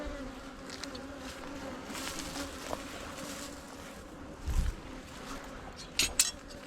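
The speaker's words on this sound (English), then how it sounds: "You can see the bees landing on the landing board at the bottom and going up behind." Honeybees hum continuously at the entrance and landing board of a top bar beehive, a steady drone with a few brief knocks and rustles nearby.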